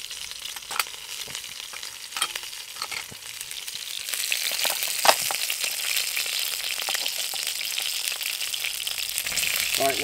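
A stacked double cheeseburger sizzles and fries in a pan on a compact Trangia Mini camping stove, a steady crackling hiss that swells louder partway through, with occasional scrapes and stirring knocks.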